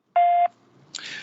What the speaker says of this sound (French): Veuillez laisser votre message après le bip.